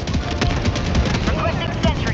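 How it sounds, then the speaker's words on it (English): An artillery barrage pounds a battlefield in Helldivers 2, a dense, loud and continuous mix of rapid gunfire and blasts with no pauses, with a voice partly heard underneath. "This is a real barrage, yeah."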